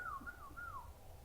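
A person whistles a wavering, rising-and-falling tune that imitates birds chirping in a tree outside a window; it is a single faint voice over low background hiss, with no other talk.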